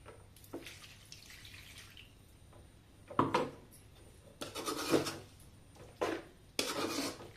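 Mutton liver pieces are tossed with masala and water in a pan, giving bursts of wet squelching and scraping in uneven clusters between quieter pauses.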